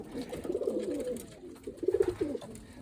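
Close pigeons coo in two soft, throaty bursts separated by a brief pause, each a rolling series of low pulses.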